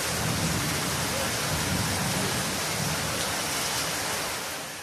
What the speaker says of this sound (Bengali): এই বৃষ্টি।